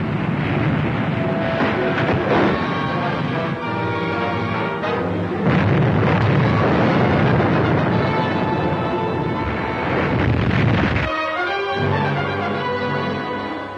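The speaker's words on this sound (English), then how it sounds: "You still got this gun? Fire! Commence firing." Naval guns on a warship fire in a sustained, loud barrage, heavy booms and rumble blending into a continuous roar, with a brief drop near the end before resuming.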